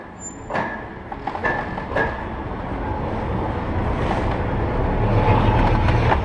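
Mail Rail underground train runs through tunnels beneath London, a steady rumbling roll with rattling, a few sharp squeals and clanks early on, growing slightly louder as it travels.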